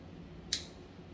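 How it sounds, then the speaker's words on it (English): A single sharp snip of handheld snippers cutting off the end of a zip tie, one brief crisp click standing alone against a faint quiet background. "I'm going to take my snippers and snip off the ends."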